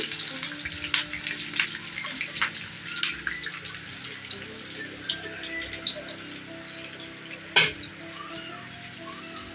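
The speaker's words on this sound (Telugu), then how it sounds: "కొద్దిగా కరివేపాకు బాగా ఫ్రై చేసుకొని" Curry leaves frying in a pan for lemon rice: a steady crackling sizzle with scattered pops and one sharp clatter near the end, alone with no voices.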